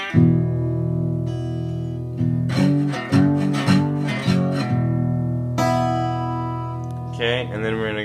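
Slide guitar in open E tuning plays an intro, with sustained ringing notes, slides and plucked phrases that run continuously and loudly with no talking.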